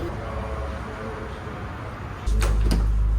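Someone trying the handle of a locked car door at a car lot in Iraq: two quick sharp clacks at the end, after a steady background hum.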